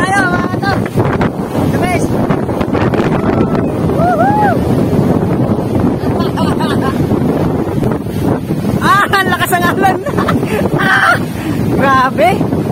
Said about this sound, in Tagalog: Ang lakas ng hangin dito, grabe.